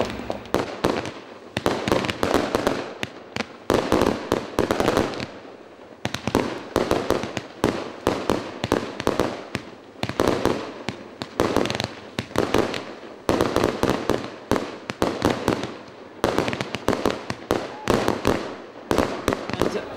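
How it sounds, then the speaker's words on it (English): Fireworks going off at a wedding celebration, a long run of sharp, loud bangs and crackles in irregular clusters with brief pauses, continuing for about twenty seconds. "So, I'll see you at the fireworks."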